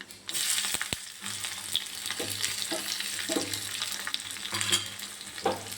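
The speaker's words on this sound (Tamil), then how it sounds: "தட்டி வச்ச பூண்டை போட்டுக்கலாம்." Crushed garlic sizzles in a pan, a steady close frying hiss punctuated by repeated stirring scrapes, with no talking over it.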